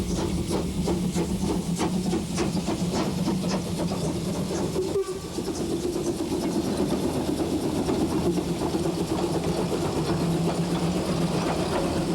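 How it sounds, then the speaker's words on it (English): Two steam trains on the Jonsdorf and Oybin branches pull out of Bertsdorf station together in Germany, a steady rumbling clatter of wheels and chuffing that runs unbroken, with a brief louder knock partway through. "Pièce de résistance at Bertsdorf is the simultaneous departure of the Jonsdorf and Oybin trains."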